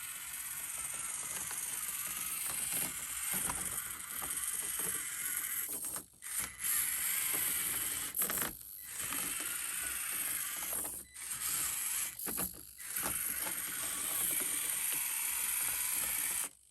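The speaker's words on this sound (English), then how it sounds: "the Rockstar Basher four-wheel steer. So we're going to do the same thing with this. We're going to utilize its four-wheel steer capabilities." A 1/24 scale Rockstar Basher four-wheel-steer RC crawler creeps down a hill, its motor and gears giving a steady, close mechanical whir and buzz with a few brief dropouts as the throttle eases off. No one speaks.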